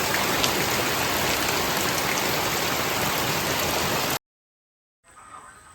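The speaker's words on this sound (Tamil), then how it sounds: "எப்படி மழை பெய்யுதுன்னு பாருங்கள். செம்ம மழைங்க." Heavy rain pours down in a loud, dense, steady hiss, then cuts off abruptly, followed by a brief silence and a softer background.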